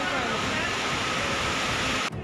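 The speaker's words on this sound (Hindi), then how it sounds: "पानी का शोर डरा देने वाला था।" Floodwater rushes down a residential colony street in Hyderabad after heavy rain, a loud, constant roaring wash filling the clip until it cuts off abruptly near the end.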